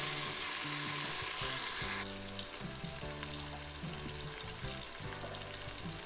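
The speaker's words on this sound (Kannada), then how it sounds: "ಟೊಮಾಟೊ ಸೇರಿಸಿಕೊಂಡು ಅದು ಮೆತ್ತಗಾಗುವವರೆಗೂ ಫ್ರೈ ಮಾಡಿಕೊಳ್ಳೋಣ" Tomato frying in a pan for pulao gives a steady sizzle with clattering stirring and scraping underneath. The hiss softens partway through, and no one speaks.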